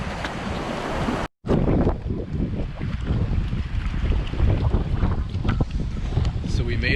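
Strong wind blowing across a lake at Algonquin Park, a steady loud roar with gusty buffeting against the microphone and waves lapping, continuous and close.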